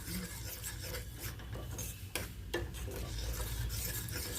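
Ground coconut is stirred into pidikaranai masiyal, a Tirunelveli yam mash, with soft scraping and rubbing of a spoon in the pot over a faint background sizzle, quiet and continuous with no talking.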